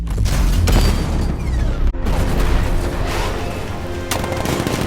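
Heavy 60mm cannon fire and booming blasts in the video game Batman: Arkham Knight roar in a dense, continuous barrage, loud and close, with a brief break partway through before the firing resumes.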